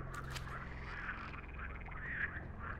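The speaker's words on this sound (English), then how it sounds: "Hi, Froggy Frog." A frog in The Cursed Forest video game croaks in repeated short, raspy calls, faint against a low ambient game background.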